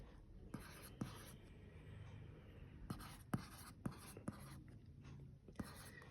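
Pen or pencil writing by hand on paper during a maths lesson, with a series of scratchy strokes and taps spread unevenly over several seconds, fairly close and quiet against a faint background hum.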